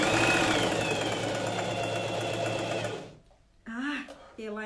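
A sewing machine runs steadily for about three seconds while stitching a coat, then stops abruptly; after a short pause someone speaks.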